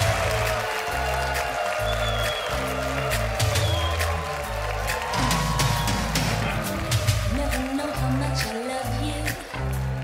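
Audience applause welcoming a performer onto a Romanian television stage, steady dense clapping throughout with loud band music and beat running underneath.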